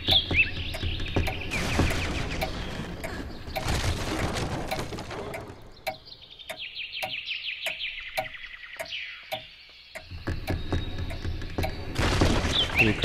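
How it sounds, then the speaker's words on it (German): Game birds in Layers of Fear tweet and trill in bright bursts through the middle stretch, framed at the start and end by louder, muddier game sounds and rumbling ambience. "Vögel?"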